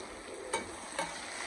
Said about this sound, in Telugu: ఒకసారి కలుపుకుంటున్నా.